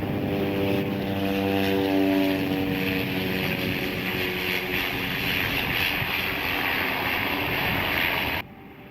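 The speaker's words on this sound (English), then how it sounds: "Here comes a caravan on floats landing in the bay." A Caravan floatplane lands on a bay near Yellowknife, its propeller engine droning loud and steady, then dropping sharply near the end.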